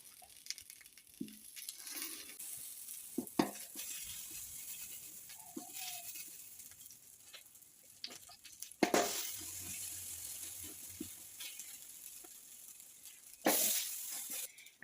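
Chickpea burger patties are laid into a heated pan on lowered heat. Quiet clinks and shuffles build into bursts of hissing sizzle, the loudest surges coming in the second half.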